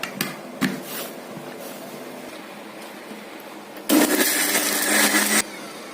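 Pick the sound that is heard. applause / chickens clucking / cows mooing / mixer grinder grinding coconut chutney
mixer grinder grinding coconut chutney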